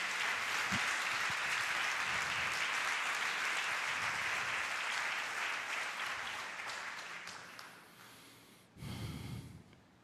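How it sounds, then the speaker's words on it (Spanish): A church congregation at a Sunday service claps in a full, steady round of applause that gradually fades, followed by a short renewed burst near the end. "Den un aplauso"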